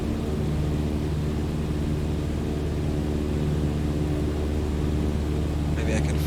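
A simulated airplane engine in Microsoft Flight Simulator, with the throttle pulled back, drones in a steady, loud, unbroken rumble with a broad hiss for the whole stretch.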